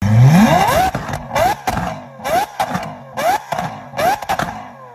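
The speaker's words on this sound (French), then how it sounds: "Une voiture qui rugit jusqu'à 8400 tours minutes." Lamborghini Aventador V12 engine revving hard toward its 8,500 rpm redline, a loud snarling climb followed by a series of sharp blips, each a quick rising bark with exhaust pops between them.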